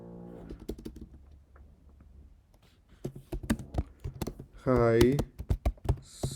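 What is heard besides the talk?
typing on a computer keyboard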